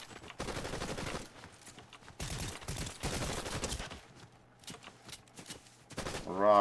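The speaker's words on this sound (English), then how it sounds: "we are also getting shot at, so a gun would be useful right about now." Gunfire in the Fortnite video game comes in several bursts of rapid shots, with short quiet gaps between volleys and a sharp sound near the end.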